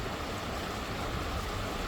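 Water rushing steadily in a flowing river, a continuous broadband wash with no breaks or distinct events, heard alone and fairly close throughout.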